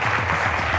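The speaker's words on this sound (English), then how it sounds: "How about a huge round of applause for Micah and Dylan?" Conference audience at the ModCon 2026 main stage clapping for two speakers: a brief, even burst of steady applause from a crowd.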